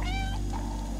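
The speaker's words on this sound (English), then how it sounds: "Meow in excitement." A cat in the video game Stray lets out a short, excited meow at the start, tonal and fairly close, over a low steady background hum.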